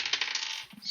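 Dice rattling and tumbling across a hard surface during a tabletop roleplaying game, a quick dense clatter lasting under a second, close and clear with no talk over it.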